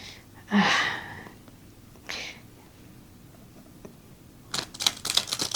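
Tarot cards of a mini 300 GSM deck are riffle shuffled, with a short riffle burst, a second brief one, then a longer rapid ruffle of cards near the end, plus a breathy sound early on.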